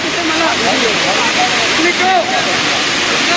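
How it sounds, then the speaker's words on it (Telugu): Gayatri waterfall in Adilabad roaring at its base, a constant loud rushing wash of falling water, with someone talking over it throughout. "మనం ప్రస్తుతం జలపాతం కింది భాగంలో ఉన్నాం"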